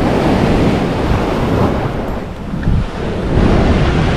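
Ocean waves washing in at the Monster Hole surf spot, a loud, continuous roar of surf with heavy wind buffeting the microphone throughout.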